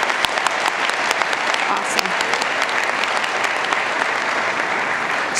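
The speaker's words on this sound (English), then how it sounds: "Audience, please join me in giving all of them a round of applause." Sustained applause from a college commencement crowd honoring graduates, a dense, even wash of clapping with a voice briefly heard over it.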